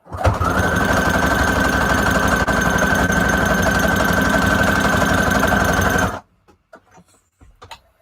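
A sewing machine stitches a fabric scrap junk journal cover in one loud, continuous rapid mechanical buzz of about six seconds, then stops, followed by a few quiet handling sounds.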